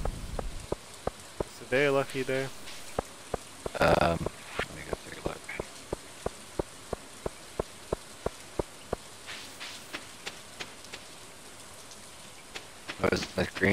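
Rain falls on the farm in Stardew Valley, a soft steady patter with regular sharp tick-like drop sounds running through the whole stretch, while people talk briefly over it.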